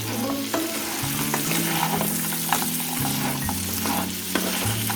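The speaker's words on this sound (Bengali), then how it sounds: "ভালো করে নেড়ে দিতে হবে।" Crab frying in a pan for a Bengali crab kosha is stirred with repeated scraping and clinking strokes over a steady close sizzle, with no talking.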